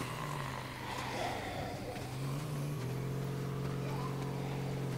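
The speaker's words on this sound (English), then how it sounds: "I hear a car." A car in the zombie survival game H1Z1 drives nearby, a steady engine hum that drops in pitch partway through and keeps droning under faint game ambience.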